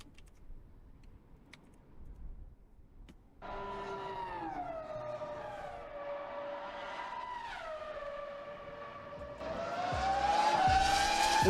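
A Formula 1 V10 racing car engine screams at high revs, rising from near silence into a loud, sustained harmonic wail that climbs and dips through gear changes and swells louder toward the end.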